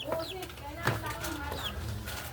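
A few soft clucks from a nearby chicken, with faint bird chirps and a low background hum.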